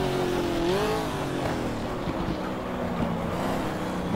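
A Corvette engine in the GT Legends racing game roars loud and continuous, its pitch sweeping up and wavering as the throttle is stabbed hard and modulated.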